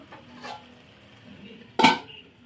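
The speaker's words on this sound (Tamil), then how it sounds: "இந்த மாதிரி எடுத்து கிண்டி விட்டுக்கோங்க" Egg curry masala in a pan being stirred: a faint scrape early on, then one sharper, louder scrape of a utensil against the pan over a quiet background.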